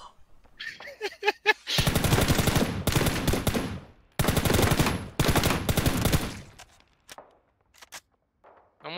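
Gunfire in the shooter game Ring of Elysium: loud, rapid bursts of automatic fire in several long strings separated by brief pauses, close by, followed by scattered quieter shots.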